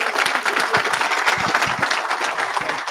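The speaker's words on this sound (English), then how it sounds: "Can we give Greg Getter another round of applause, please?" An audience at a graduation ceremony gives steady, dense applause, a continuous wash of many hands clapping with no speech over it.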